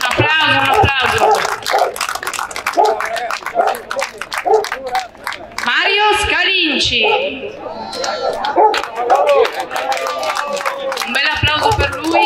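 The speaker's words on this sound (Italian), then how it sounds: "Un bel applauso per lui." Audience clapping at a commemorative car rally event in Lombardore, bursts of applause mixed with crowd chatter and a loud announcer speaking over the clapping throughout.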